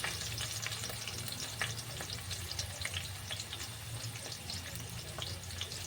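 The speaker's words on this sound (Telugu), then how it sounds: "కొత్తిమీర, కరివేపాకు వేసుకొని ఫ్రై చేసుకోవాలండి." Finely chopped onions, coriander and curry leaves fry in hot oil for a curry. The sizzle is steady, close and continuous, with faint crackles and light stirring.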